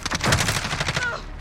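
Rapid bursts of automatic gunfire in a Call of Duty: Modern Warfare multiplayer match, loud and close, with overlapping shots rattling for over a second before tailing off.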